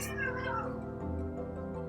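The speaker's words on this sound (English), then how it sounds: "Sorry, my cats aren't getting along." Domestic cats that are not getting along, one long drawn-out meow sliding down into a lower, sustained yowling caterwaul, close and fairly loud.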